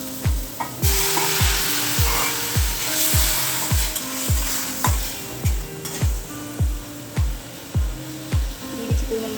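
Garlic paste sizzling loudly in a pan right after water is added, a dense crackling hiss over a steady, rapid series of sharp metallic taps from a utensil striking the pan.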